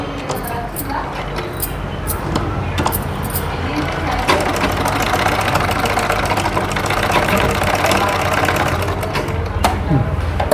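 A sewing machine stitching piping onto a boutique-style garment, a steady, fast mechanical whirring and ticking running continuously and close, with someone talking over it.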